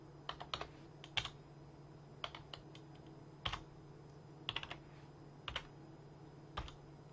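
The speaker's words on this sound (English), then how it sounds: "Let's type in a few numbers." Keys tapped on a computer keyboard as numbers are entered, sparse clusters of light clicks separated by short pauses, close and quiet, with no talking.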